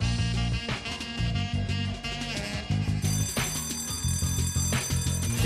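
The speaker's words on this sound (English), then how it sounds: "Burglar alarm." A burglar alarm bell rings loudly and continuously as a sound effect on the Catchphrase TV game show from 2002, layered over busy studio music.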